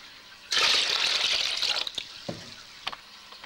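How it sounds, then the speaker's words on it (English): Water being bailed out of a fish tank, a near splashing, gushing pour for about a second and a half, then a few scattered drips and small splashes trailing off. "you want to bail just to above height to where fishes are swimming"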